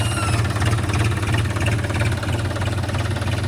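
A used John Deere 5210 4WD tractor engine idles steadily, a loud, close, continuous low rumble with no talking over it.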